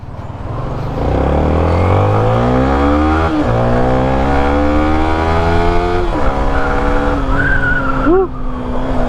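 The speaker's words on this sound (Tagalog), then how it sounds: "Ang ganda ng engine, smooth na smooth." A 2023 Yamaha Sniper 155 motorcycle with 2,800 km on the odometer is ridden. Its engine drones steadily and loudly, pitch rising and falling through gear changes, with constant road and wind rush and no talking.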